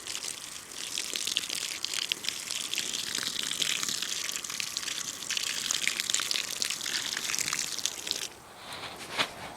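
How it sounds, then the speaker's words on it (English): Water pours steadily into a planting hole for moving daylilies, a continuous close splashing gush that runs for several seconds before easing briefly near the end. "I'm gonna put some more water in it."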